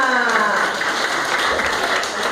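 A crowd applauds steadily at a church children's Bible school event, many hands clapping together in a dense, continuous burst that fills the whole moment without a break.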